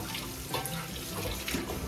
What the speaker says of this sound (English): I have on the stove the water boiling for the pasta